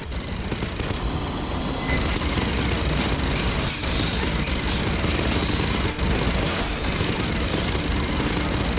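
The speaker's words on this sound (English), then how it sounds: "Must have heard the gunfire" Sustained gunfire from the Aliens: Fireteam Elite video game, dense and continuous bursts with booming impacts filling the whole stretch at steady loudness, no talking.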